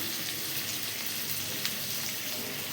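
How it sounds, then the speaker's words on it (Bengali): Potatoes frying in hot oil in a home kitchen, a steady close sizzle with fine crackling throughout and no talking. "আলুটা এবার ফ্রাই করে নেওয়া হবে"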